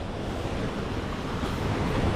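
Strong river current rushes near a waterfall in a steady, dense, loud roar of water with wind buffeting the microphone. It continues without a break and no voices are heard.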